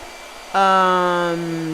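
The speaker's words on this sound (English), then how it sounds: "All right, blow dryer." A blow dryer switches on with a sudden steady whine and rumble and runs loudly and evenly at close range, used at an art table while painting a plush OctoBEAR figure.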